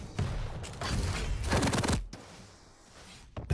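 Gunfire in Quake Champions during a competitive duel, with loud, rapid bursts of shots packed together and then a quieter gap and a final shot, no voices over it.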